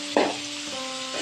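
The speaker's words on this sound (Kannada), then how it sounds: "ಬೀನ್ಸ್ ಹಾಕಿದ್ಮೇಲೆ ಅದು ಎಣ್ಣೆಯಲ್ಲಿ ಫ್ರೈ ಆಗಬೇಕು ಬೀನ್ಸು" Green beans drop into hot oil with a sudden short sizzle burst, then settle into a steady, soft frying hiss.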